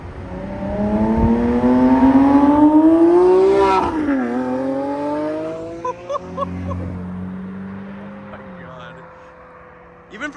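A Lamborghini on its stock exhaust accelerates hard away from a green light outside a Florida exotic car dealer, the engine note climbing loudly through the revs, then dropping on a shift before settling as the car pulls off.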